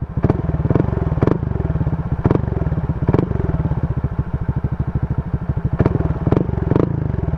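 Honda Click 125i V3 scooter fitted with a T4S exhaust pipe, idling with a rapid, even putter and blipped several times with short throttle revs, close and loud with no talking.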